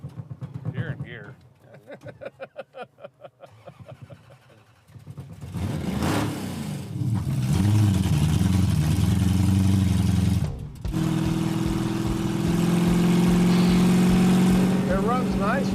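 A Dodge Coronet's engine idles roughly at first, then catches and runs steadily in gear with a loud continuous drone, with people talking over it.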